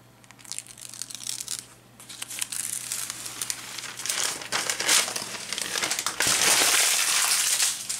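Backing paper peeled off Heat'n Bond fusible adhesive on fabric, a close crinkling and rustling tear that grows louder and more continuous toward the end, with no talking.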